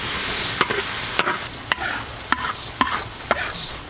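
Half a batch of minced garlic stirred in hot oil in a wok for charcoal-grilled conch topping, a steady sizzle punctuated by sharp periodic scrapes and clacks of the spatula, close and without talk.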